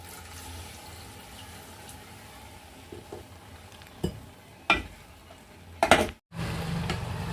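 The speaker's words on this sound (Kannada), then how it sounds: "ಈಗ ಇದ್ರೊಳಗೆ ಸ್ವಲ್ಪ ನೀರು ಹಾಕೊಳ್ಳಿ" Water goes into a spiced green gram (hesaru kalu) mixture in a pan, a quiet sizzle with a few sharp splashes and stirring scrapes, then a louder burst of bubbling near the end.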